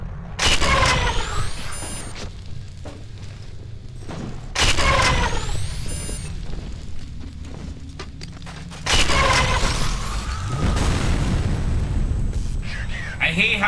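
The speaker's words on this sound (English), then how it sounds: "I hate how grenades go through shit. It fucked me up through the wall." Three heavy grenade blasts in the shooter game F.E.A.R. go off a few seconds apart, each a sharp boom followed by rumbling debris and crackle, with quieter gameplay clatter and a voice in between.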